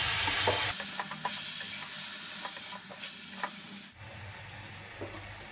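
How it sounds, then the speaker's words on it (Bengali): Chicken frying in a pan with onion, garlic and grated tomato, a steady close sizzle with occasional light stirring scrapes, at moderate loudness. "পেঁয়াজ রসুনটা ভাজা হলো, চিকেনটা দিয়ে দিলাম।"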